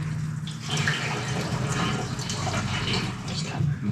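Fresh gasoline pours from a five-gallon supply into a Can-Am fuel tank, a steady close liquid gurgle and splash that runs unbroken for several seconds.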